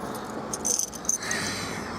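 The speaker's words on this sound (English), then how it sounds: "Can't even get the key in the lock. It's frozen solid." Keys jangle and scrape against a frozen car door lock on a cold winter night, a short metallic rattle with a couple of sharper clinks close up, no talk over it.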